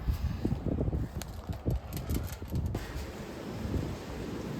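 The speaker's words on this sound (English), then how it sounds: "it's super windy" Strong wind buffets the microphone with continuous low rumbling gusts, steady throughout with no voices.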